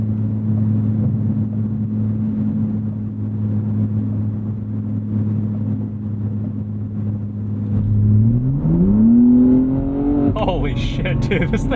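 BMW G80 M3 Competition xDrive from 2025 accelerating hard, a steady loud engine drone that climbs sharply in pitch near the end as the revs rise, with a brief burst of extra noise at the finish.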